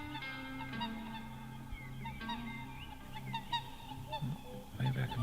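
Swans calling over a drained swamp in Sweden, a series of honking, goose-like calls repeating through the scene at moderate distance, growing louder and busier near the end.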